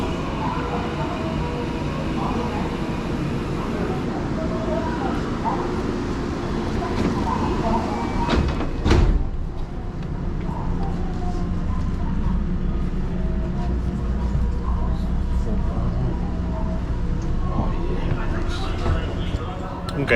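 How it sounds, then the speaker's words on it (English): Steady low rumble and hum of a train running toward Maibara, Japan, continuous throughout with a brief louder clunk partway, heard from inside the carriage with faint background voices. "this train trip is going to take us up to Maibara"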